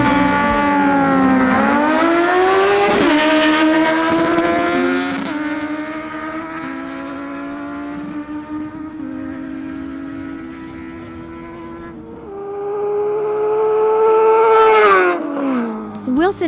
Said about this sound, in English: The next duel is between Christian Alcala on his Suzuki GSX-S750 and Wilson Mejia on his Kawasaki Z900